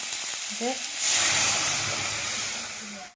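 Lentils with a spoonful of turmeric frying in a pan, tomatoes already in, give a steady close sizzle and hiss that swells after the first second, with a few faint scrapes and a brief voice-like sound.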